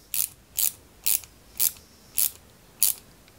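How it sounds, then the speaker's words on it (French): A screwdriver tightens screws into parts of a 1/8-scale Ferrari 330 P4 model, six short clicking, ratcheting bursts spaced about half a second apart, close and crisp against near silence. "Et on visse le tout proprement."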